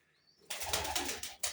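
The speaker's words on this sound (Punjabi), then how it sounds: "ਜਦੋਂ ਕਬੂਤਰ ਗੁੜਕਦੇ ਆ ਨਾ ਜੋੜੇ ਲੱਗੇ ਆ ਪੰਜ ਛੇ" Male pigeons coo to females in a loft, with a burst of flapping wings and rustling close by over a low, soft cooing rumble.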